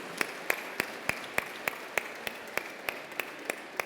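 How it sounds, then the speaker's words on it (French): An awards ceremony audience claps in slow, even unison, sharp single beats about three to a second, steady and somewhat distant, with no talk over it. "Avec vos applaudissements"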